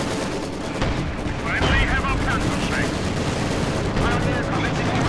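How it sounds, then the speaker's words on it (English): Aircraft strafing gunfire from the Company of Heroes 2 World War II strategy game rattles in a dense, continuous barrage, loud and sustained with booming battle noise throughout. "And another strafing going once more. The Soviet Air Force intervenes in style."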